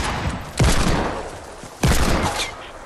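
Two loud, sharp gunshot blasts in Fortnite, about a second apart, each followed by a short decaying tail over steady game noise.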